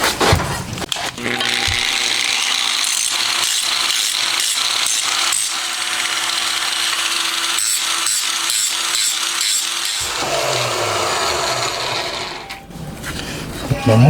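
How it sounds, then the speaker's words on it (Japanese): Grinding and cutting on a Honda Monkey engine being converted to a 124.4cc four-cylinder: a loud, continuous harsh abrasive rasp broken by a rapid run of rhythmic strokes, then a shift in tone toward the end. "不要部分を削っていくか"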